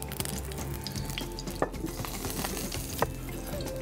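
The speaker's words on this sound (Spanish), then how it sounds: "Voy a poner a dorar un poquito ese pan." Bread toasts in a very hot frying pan with olive oil as mussels in limoncello are prepared, giving a steady close-up sizzle with a few light clicks of utensil against pan and no talk.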